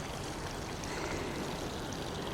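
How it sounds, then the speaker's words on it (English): Steady, close rush of splashing water from a garden pond fountain, continuous and fairly loud with no voices. "Got a gorgeous pond here with a fountain."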